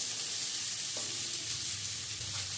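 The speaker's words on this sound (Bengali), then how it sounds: "পেঁয়াজ কুচিটাও হালকা করে ভেজে নেব" Chopped onion and garlic frying in hot oil in a wok, a continuous dense sizzle with a couple of light spatula scrapes, near and steady, no speech.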